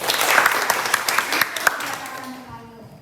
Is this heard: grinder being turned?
no